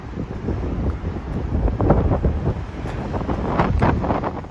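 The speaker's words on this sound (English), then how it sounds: "it's a bit blowy, but I think it's always probably blowy around this part." Wind gusts buffet the microphone on a rugged clifftop stretch of the South West coast path between Gurnards Head and Zennor, a loud, blustery rumble rising and falling without letting up.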